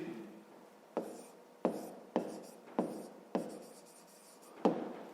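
A pen writing a fractions answer for a 5th-grade math exercise, heard as a series of short scratchy strokes with sharp onsets about every half second, close and fairly quiet in a still room.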